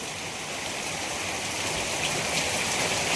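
Heavy rain pours down in an Andhra village, a dense, even hiss of drops on surfaces that holds steady throughout, loud and close, with no voices.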